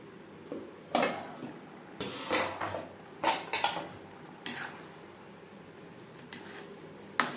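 A lid clatters onto a pot of boiling lentils on a gas stove. Several sharp metallic clinks and knocks, close and fairly soft, are spread across a quiet kitchen background.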